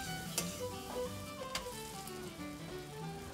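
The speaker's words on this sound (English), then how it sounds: "I'm going to fry up our bread crust" Soft crackling and sizzling of bread crust frying in melted butter in a pan, with a few sharper clicks and utensil taps over a steady fizz.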